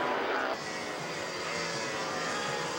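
A vintage Yamaha 250 two-stroke racing motorcycle roars past during a 1997 AHRMA vintage road race at Steamboat. The engine noise is loud and continuous, dips slightly early on, then holds steady.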